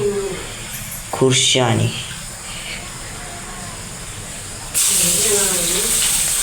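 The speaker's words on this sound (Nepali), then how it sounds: "अब चाहिँ हाल्छु म खुर्सानी" Chili hits hot oil with a sudden, loud sizzle that bursts in partway through and keeps hissing steadily; a voice speaks briefly just before it.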